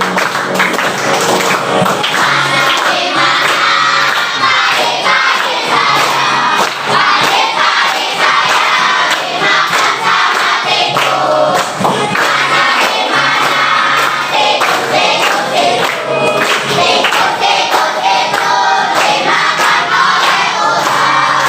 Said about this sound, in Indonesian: tadi kita sudah menyanyikan lagu rantai makanan